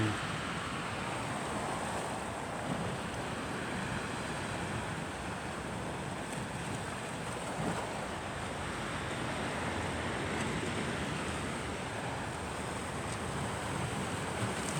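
Steady sea waves washing onto the beach at Menton in southern France, a continuous broad rush with wind across the microphone and no voices.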